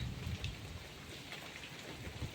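Steady rain shower falling outdoors in a monsoon downpour, a continuous even hiss of drops on surfaces with soft low patters, no voices.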